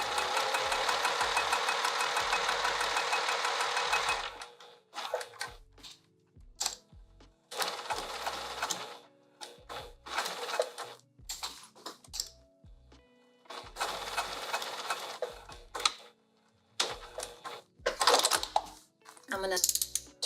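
A sewing machine stitches a vinyl sling bag in several bursts, close and clattering, a long run at first followed by shorter starts and stops with quiet gaps between.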